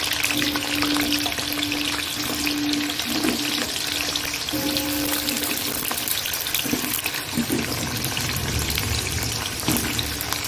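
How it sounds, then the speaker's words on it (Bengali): Potatoes fry in hot oil, a continuous dense sizzle heard up close for the whole stretch, with a faint steady hum and a few soft clatters underneath and no voices. "তেলটা গরম হয়ে এসছে। আলুগুলো দিয়ে দেবো।"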